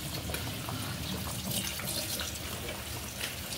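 Water poured from a bowl into a cooking pot, a steady continuous splashing pour while making Kurdish Afrin-style burania soup, close and fairly loud throughout.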